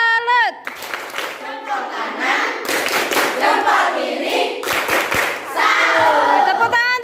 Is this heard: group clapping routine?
yes